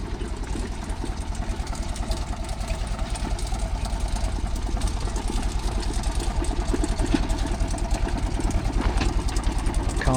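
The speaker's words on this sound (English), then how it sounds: "Here's a motor rail working its magic." A Motor Rail narrow-gauge locomotive engine at Amberley Museum in West Sussex runs with a steady, rhythmic knocking chug, close by and continuous, with faint talking in the background.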